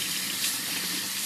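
Tap water runs steadily into a sink while a live blue crab is rinsed, a continuous close splashing hiss with no talking.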